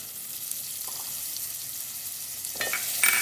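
Tomatoes, ginger and garlic fry in hot oil for an aloo anday salan, giving a steady close sizzle throughout with a few brief stirring clatters near the end.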